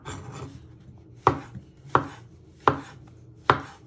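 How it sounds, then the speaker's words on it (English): A knife slices through food on a cutting board while making a steak and ale pie, four sharp, evenly spaced cuts landing close and clear after a short quiet scrape. "So in half, and then you just want to slice it."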